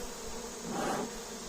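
Honey bees buzz steadily around an open hive while a mite wash is prepared, a dense low insect drone that swells slightly midway through and holds on at an even, close level.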